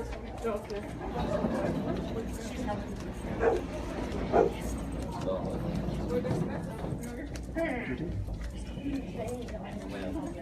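A dog barks a few times somewhere in a hotel during a nighttime group walk-through, mostly sharp single barks heard under steady chatter from several people talking nearby.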